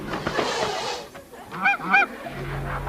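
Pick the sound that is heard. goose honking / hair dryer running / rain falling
goose honking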